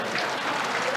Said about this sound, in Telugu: గట్టిగా మా భరత్ వాగ్మారి గారికి గట్టిగా చప్పట్లు కొట్టండి